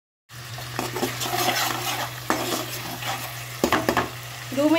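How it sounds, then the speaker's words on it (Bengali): A spice paste, just added after a pinch of asafoetida, fries on low heat for a vegetarian navratan korma: a steady soft sizzle starts abruptly and carries on, with occasional stirring scrapes and clinks of a utensil against the pan. "একদম লো হিটে রেখে মশলাটা আমি 2 মিনিটের মতো একটু ভাজা ভাজা করে নেব।"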